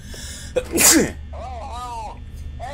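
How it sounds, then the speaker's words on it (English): A single loud, sharp sneeze bursts out close to the microphone during a Five Nights at Freddy's: Help Wanted VR session; a game character's voice talks before and after it. "Okay, I gotta sneeze."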